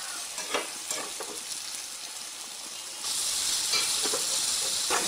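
Boiled small prawns are stirred into a sorrel (gongura) curry in a hot pan, with scraping stirs over a continuous sizzle that grows louder and hissier partway through.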